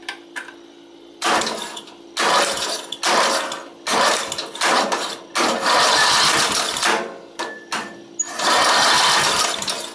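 A Craftsman LTX1000 lawn tractor engine, spark plugs disconnected, cranks on its starter in a series of short whirring mechanical bursts separated by brief pauses, close and fairly loud.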